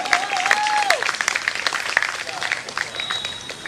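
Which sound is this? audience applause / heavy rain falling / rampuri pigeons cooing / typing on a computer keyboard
audience applause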